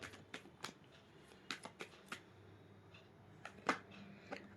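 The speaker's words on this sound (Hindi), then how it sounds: "और मैं थोड़े से कार्ड्स एक बार साईं बाबा डेक से भी ले लूँ" Cards from a Sai Baba deck being shuffled, soft close flicks and riffles in irregular bursts, faint against a quiet room.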